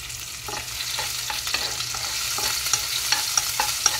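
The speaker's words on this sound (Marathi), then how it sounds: "त्याच्यानंतर कढीपत्ता चिरून ठेवला आहे, तो मी घालत आहे।" Green chili and chopped curry leaves fry in hot oil with a steady, bright sizzle, broken by scraping stirs of a spoon in the pan, close and clear.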